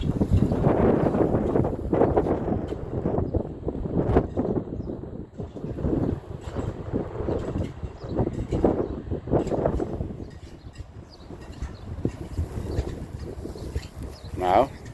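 Gusty wind buffets a microphone, rumbling loudly in uneven waves and lulls over a long stretch.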